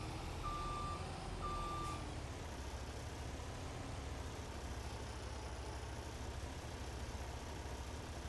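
A skid steer backs up in Farming Simulator 22, two short electronic reversing beeps over a steady engine drone, followed by continuous low machine rumble.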